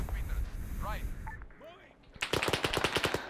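Firefight in the Arma 3 military game: a rapid machine-gun burst rattles in near the end after a stretch of distant, scattered shots mixed with other combat noise and voices.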